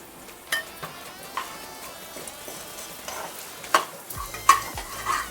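Cumin seeds dry roasting in a pan alongside coriander seeds, stirred with a spoon, making crisp rattling scrapes and light clatter in uneven bursts, with no talk.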